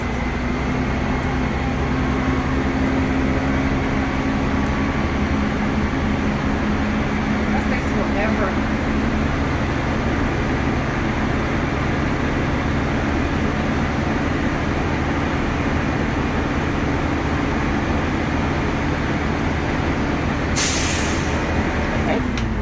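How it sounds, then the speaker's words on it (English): A school bus's air compressor runs steadily while filling the primary and secondary air brake tanks for a static test, a constant loud drone with a brief hiss of air near the end and someone speaking briefly. "Now I'm going to fill up my tanks to begin my static test."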